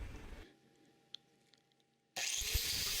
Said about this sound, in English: Remember to use the edge of the grinder disc by holding it into the opening at an angle.